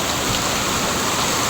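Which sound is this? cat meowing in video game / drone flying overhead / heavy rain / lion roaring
heavy rain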